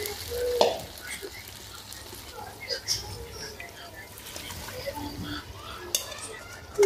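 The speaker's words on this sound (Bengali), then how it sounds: "এখন আমি মাংসটার সাথে মিক্স করে ফেলবো ঢেলে দিয়ে।" Washed pulao rice is stirred into cooked beef in a hot pan for beef biryani. Soft sizzling runs under repeated scraping strokes, broken by a few sharp clinks of utensil against pan.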